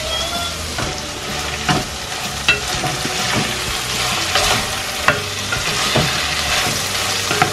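String beans and oyster sauce being stirred in a hot pan, with a loud, steady sizzle throughout and occasional scraping knocks of the utensil, close and with no talk.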